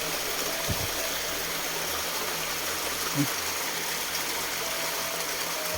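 A river rushes loudly and without pause, a broad steady roar that fills the scene, with a couple of faint knocks and brief low sounds underneath.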